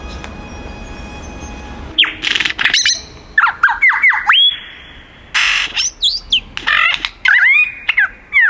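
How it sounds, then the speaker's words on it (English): Superb lyrebirds call nearby in a forest, one bird after another, with loud rapid whistles, sharp chirps and rising and falling sweeps in repeated bursts between short quiet gaps. "there still are a lot of lyrebirds calling"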